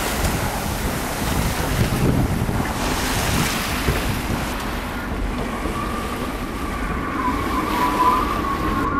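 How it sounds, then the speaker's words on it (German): A sailing boat out on the Baltic Sea, with steady wind buffeting the microphone and waves washing against the hull in a continuous, fairly loud wash and no talking. "So, nun können wir ja wieder entspannt segeln."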